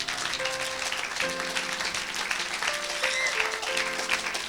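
A church congregation applauds during a Sunday worship service, a sustained crowd clapping with sung or held voices and music running through it.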